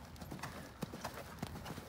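Hooves of two large horses clip-clop in a lively cantering rhythm, with sharp distinct strikes standing out over a steady background, ridden by two young girls in a riding setting.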